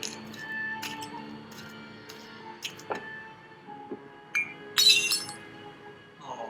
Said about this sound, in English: That was your own glass.